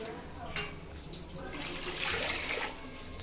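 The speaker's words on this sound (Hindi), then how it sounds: "यहाँ देखिए चावल के हिसाब से देखिए पानी डालना" Water poured onto measured rice for Hyderabadi bagara khana, a steady broadband splash and trickle building louder through the middle before easing off, close and alone.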